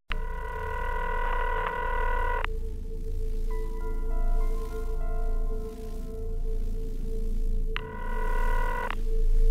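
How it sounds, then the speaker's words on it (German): An old-style telephone rings in two long electronic bursts, with a separate lower tone pattern in between, over a steady background hum. "Telefon."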